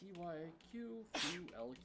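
One sharp, close sneeze cuts in among casual talking while people play an online game.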